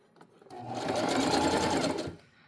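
A sewing machine stitches up the side of a fabric tote bag, a close, loud mechanical whir that builds from quiet, holds for about a second and a half, then stops abruptly.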